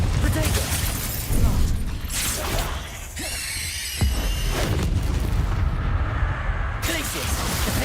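Spell explosions from the Confringo fire spell in the video game Hogwarts Legacy burst with heavy booms and shattering crashes among whooshing combat effects, loud and dense, while a voice talks over the battle.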